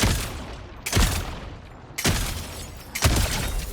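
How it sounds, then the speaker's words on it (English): Four loud, sharp gunshots from a weapon tap-fired in a video game, spaced about a second apart, each with a brief decaying tail and no talk over them. "I always recommend tap firing with this thing."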